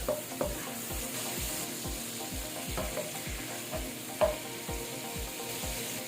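Ginger frying in a pan, a moderate sizzle with repeated soft knocks of a spatula stirring at a steady rhythm, close but fairly quiet, no speech.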